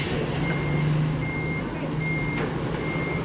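A large road construction truck gives off steady, repeating reversing beeps over a loud, constant engine rumble at a roadworks site on a hot day.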